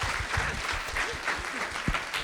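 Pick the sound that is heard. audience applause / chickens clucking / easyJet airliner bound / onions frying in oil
audience applause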